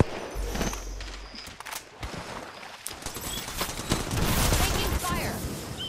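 Bursts of gunfire in the battle royale game Apex Legends, rapid cracks and volleys scattered across the stretch at mid distance, with a player's voice talking over parts of it.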